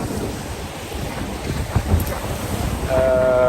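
Sea swash and wind buffeting a racing sailboat on open ocean, a rushing, noisy wash close to the microphone with a tonal hum creeping in near the end.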